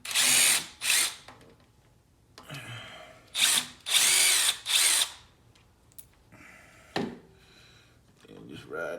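A power tool whirs in several short, loud bursts while backing out two 10mm bolts from a car engine bay, with quieter gaps of clicks and handling between, and a voice speaking briefly at points.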